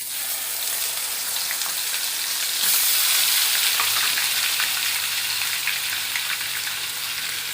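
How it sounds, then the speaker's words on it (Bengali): Onion paste fries in oil left over from frying fish, a steady close sizzle with crackling pops that swells as it is stirred, with no talking. "আমি যে মাছ ভাজার তেলটা আছে তার মধ্যেই আমি পেঁয়াজ বাটাটা দিয়ে দেব"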